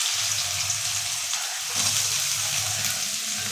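Onions frying in white cooking oil, a steady close hiss of sizzling with a low rumbling hum underneath.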